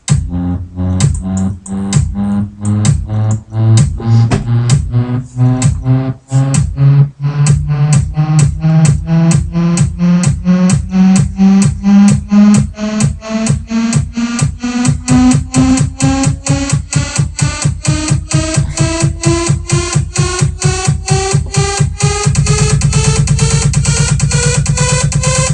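EDM build-up made in FL Studio: rapid electronic hits speed up into a dense roll while tones rise steadily in pitch, growing louder until the sidechained kick is released near the end into a full, sustained wall of sound.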